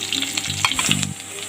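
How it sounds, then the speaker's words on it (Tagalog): Onion hits hot oil in a smoking pan, giving a loud, crackling sizzle with quick stirring scrapes through the short burst and no voices. "Igisa na natin yung ating sibuyas."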